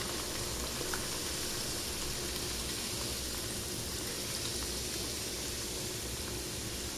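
Continuous dense hiss and bubbling as liquid is poured into a hot pan on high heat for sweet pulled pork, steady and fairly even from start to finish, with no voices.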